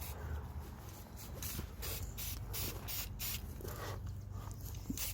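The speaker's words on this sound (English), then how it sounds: "I'm gonna do some distance spraying a little bit." An aerosol spray can releases paint in a series of short hissing bursts at a distance onto an obstacle model, the sprays close and fairly quiet against a low background hum.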